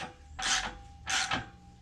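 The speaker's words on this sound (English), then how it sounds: "now we'll finish running this clamp to where it starts tightening" Two short, gritty ratcheting rasps a moment apart as an exhaust pipe clamp on a 2018 Harley-Davidson Sport Glide FLSB with a Cobra 909 exhaust is run down, close up over a quiet shop background.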